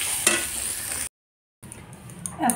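Minced meat for burgers fries and is stirred in a pan, giving a close hissing sizzle broken by a half-second gap of silence, then more frying with spoon scrapes.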